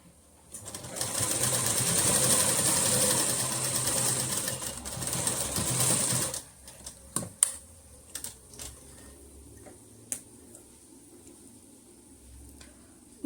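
Sewing machine stitching a kurti alteration, a close fast whirring run for several seconds that stops abruptly, followed by scattered clicks and small handling taps, no talking.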